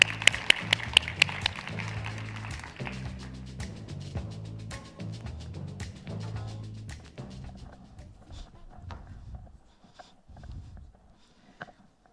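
A room of attendees at a women leaders' forum breaks into applause for a speaker, with sharp claps at first that settle into steady clapping and then thin out and fade, ending in a few scattered claps.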